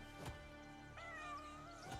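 A cat in an online game meows in two or three short calls at moderate volume over a steady layer of game music and ambient tones.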